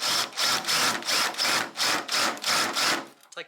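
Drill biting through the rusted front guard metal of a Holden HK/HT/HG, running in about seven even stop-start bursts of roughly a third of a second each, close and loud, then stopping.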